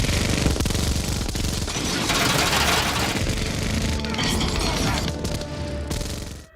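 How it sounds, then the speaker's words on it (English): A Marvel Legends Iron Monger action figure by Hasbro plays its electronic minigun firing effect, a continuous, dense, loud rattling burst that fades out at the end. "We have the minigun firing."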